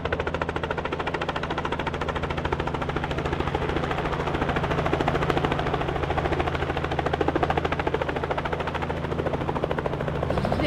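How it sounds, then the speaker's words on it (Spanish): A helicopter over the Okavango Delta in Botswana thuds with a steady, rapid rotor chop over a deep engine drone, loud and close throughout. "Llegó el helicóptero por nosotros."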